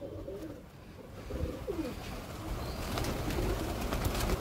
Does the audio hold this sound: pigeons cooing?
yes